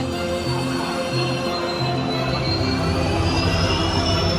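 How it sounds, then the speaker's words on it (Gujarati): A train rumbles steadily at a railway station near Junagadh, a continuous loud drone with a faint rising whine and no voices. "જો ટ્રેનની તૈયારી થઈ ગઈ છે"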